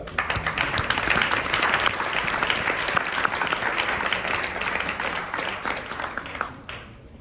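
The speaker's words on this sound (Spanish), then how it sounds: "un fort aplaudiment per la Ale Oseguera" An audience at a poetry cabaret applauds loudly and continuously, the dense clapping tapering off near the end.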